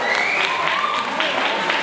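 Audience applause at a Miss Teen Philippines pageant for contestant Gladys Canto, a steady wash of clapping filling the room with a voice faintly audible over it.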